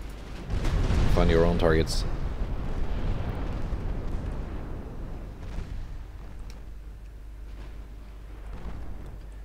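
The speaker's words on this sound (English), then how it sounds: "Also, secondary guns." Warship secondary guns fire in the naval battle game Ultimate Admiral Dreadnoughts, deep rumbling booms rolling out over several seconds, partly under a brief spoken line at the start.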